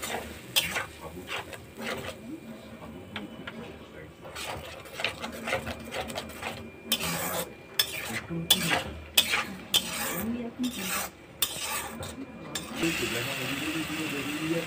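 Turmeric and chili spice paste with ginger, onion and garlic is stirred and fried in a pan, a steady close scraping and clatter of utensil on metal with soft sizzle underneath, continuing throughout with a voice talking at times.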